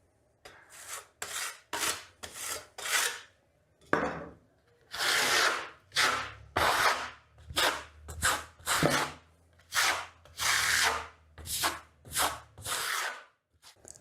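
A trowel burnishing Vasari marmorino plaster on a wall, with repeated raspy scraping strokes in a steady rhythm, close and clear with no talking.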